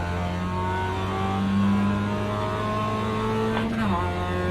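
A race car engine in the iRacing sim racing game holds a loud, steady drone, its pitch climbing and then dropping sharply near the end as the car shifts or lifts off.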